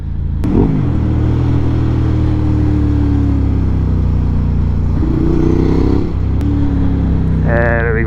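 A Ducati Hypermotard motorcycle engine hums loudly and steadily while riding with traction control off, its pitch rising and falling as it revs, with wind noise throughout and a brief climbing whine near the end.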